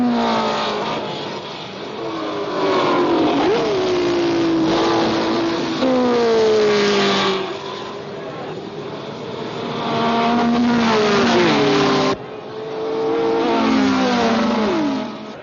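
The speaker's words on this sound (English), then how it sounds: "Coming up the main straight now is number 4, Jean-Pierre Sarti's" 1966 Formula One race cars howl along the track, high-revving engines rising and falling through gear changes as several cars pass close and loud, with a short cut near the end.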